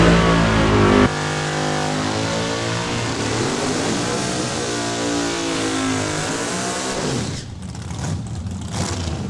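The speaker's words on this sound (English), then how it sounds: "We're drag racing." Drag racing car at Saskatchewan International Raceway in Saskatoon, revving hard at the start line and then roaring down the strip in one loud, sustained run whose pitch climbs steadily before dropping off near the end.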